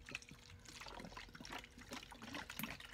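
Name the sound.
homemade case lube being poured to refill a bottle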